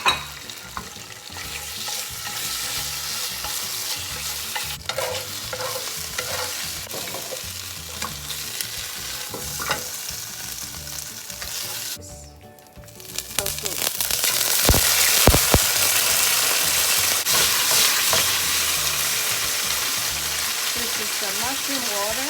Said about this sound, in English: I'm going to put some ginger into the frying pan